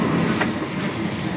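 An intercity train running on rails, a steady close rumble with rattling wheel noise throughout, heard from on board without anyone speaking.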